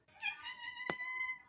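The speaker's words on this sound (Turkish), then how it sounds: "Lan kedi." A cat gives one long, drawn-out meow close by, with a brief sharp click partway through.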